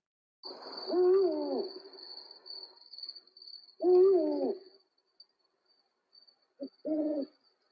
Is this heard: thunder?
no